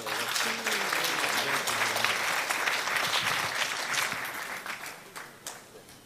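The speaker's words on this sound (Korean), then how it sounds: "박수로 맞아주십시오" Applause from an audience at a political party's emergency action rally at the National Assembly, a dense burst of clapping that holds steady for several seconds and then thins out to scattered claps as it fades.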